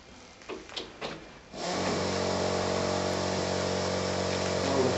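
Vacuum pump for vacuum bagging starting up after a few handling knocks, then running as a steady, even electric drone that continues without change to the end.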